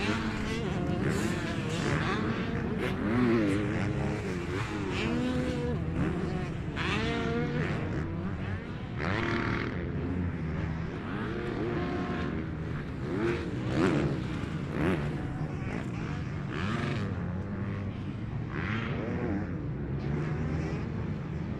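Motocross motorcycles race through the rhythm section of a Kanto championship round, engines droning and revving continuously at close range while an announcer talks over them throughout.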